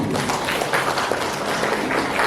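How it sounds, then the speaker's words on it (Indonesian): Audience applause at a university graduation ceremony (yudisium) in Banyuwangi, Indonesia: dense, steady clapping from a seated crowd lasting a couple of seconds without break. "Tepuk tangan."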